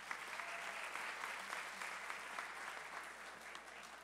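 Sustained audience applause fills a college of nursing graduation ceremony, steady and even throughout with faint cheering mixed in, no single voice standing out.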